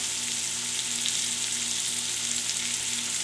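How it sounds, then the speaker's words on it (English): Catfish fillets for Louisiana blackened catfish sizzle steadily in a hot pan, a continuous close, loud frying hiss with no talking. "then we are going to take our catfish fillets and lay them in the pan"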